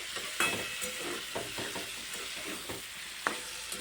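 Fried potato and spiny gourd stirred in a cooking pan, with a scattered series of soft scraping and clinking strokes over a faint steady sizzle, close and fairly quiet.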